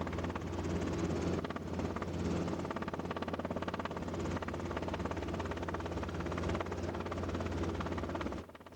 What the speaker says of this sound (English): The turbulence was buffeting the helicopter randomly.